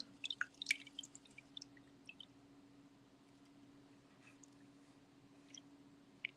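Gold pan being worked in water, soft drips and sloshing splashes clustered at the start and again near the end over a faint steady hum, close and quiet, no talking.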